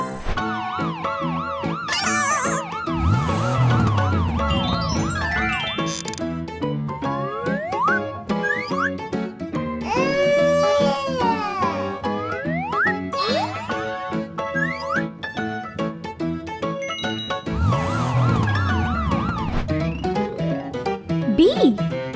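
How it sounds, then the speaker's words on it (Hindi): A wailing ambulance siren rises and falls repeatedly amid bouncy cartoon sound effects and a voice, bright and busy throughout. "A, ambulance."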